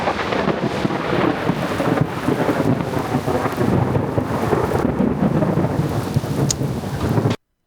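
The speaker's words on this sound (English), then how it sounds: "I think it's the first time he's ever encountered thunder" Loud, steady thunder rumbling through a storm with heavy rain falling on surfaces throughout, close and continuous before cutting off abruptly.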